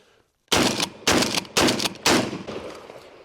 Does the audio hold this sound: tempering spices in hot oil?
no